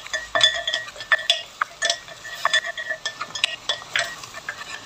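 A utensil stirs pork belly in a pan, giving a steady run of light metallic clinks and scrapes against the cookware, close and fairly quiet, with no talking.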